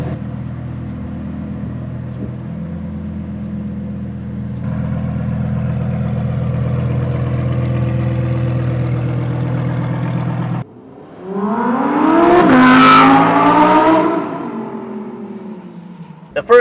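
A Lamborghini Huracan Sterrato engine idles with a steady low rumble, then drops briefly before a loud rev climbs and falls back, heard close and alone.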